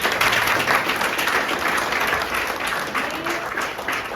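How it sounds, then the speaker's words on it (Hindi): An audience at a motivational talk claps together in a dense, lively burst of applause that slowly eases slightly in level over a few seconds. "तालियां बजाओ देखो"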